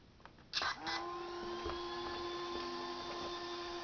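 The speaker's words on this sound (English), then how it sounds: "Sorry for the fan noise." Brushless motor cooling fans whine steadily at a high pitch after a few clicks and handling noises, a constant close hum.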